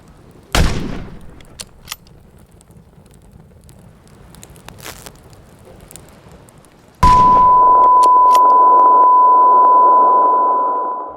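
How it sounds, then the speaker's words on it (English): Gunfire in the video game DayZ: a loud shot followed by several faint, distant cracks, then a sustained steady electronic tone that runs to the end. "Whoa, is that a shot? Shots."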